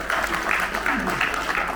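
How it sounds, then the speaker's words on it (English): Steady applause from a conference audience for a panelist, a dense even patter that holds through the whole moment with a faint voice underneath. "let us give a round of applause once again for Mr. Bhargav."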